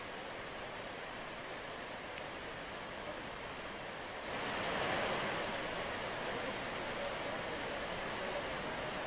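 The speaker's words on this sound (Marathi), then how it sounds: "कोंढवळचा धबधबा सुद्धा पर्यटकांचं आकर्षण असतो" The Kondhwal waterfall near Bhimashankar, in monsoon season, gives a continuous broad rushing roar that swells slightly louder midway and stays steady, with no voices.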